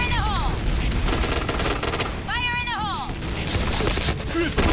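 Rapid gunfire in a Point Blank-style shooter game crackles in bursts alongside electronic whooping sound effects, with water guns and explosions in a busy, dense mix throughout.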